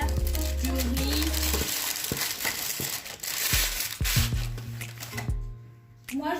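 Dry rice poured over tart pastry as a baking weight for a lemon tart: a dense, rattling hiss of grains spilling for several seconds after a brief musical opening, close and fairly loud.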